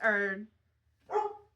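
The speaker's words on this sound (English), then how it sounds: "there are dogs outside barking" Two short dog barks or yips a second apart, moderately faint, heard from outdoors with quiet background between them.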